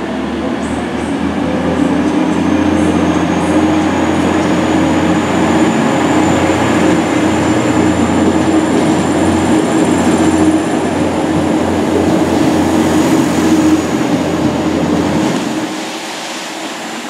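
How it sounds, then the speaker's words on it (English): A train rumbles steadily as it departs a station, loud and close, with a faint high whine over the low clatter before the noise eases at the end. "departing now is a 12:28 to Cleethorpes."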